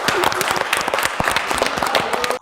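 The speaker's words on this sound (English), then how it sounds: "I wanted to clap with him." Brief burst of clapping from a small group, with voices and chatter mixed in over two and a half seconds, ending abruptly.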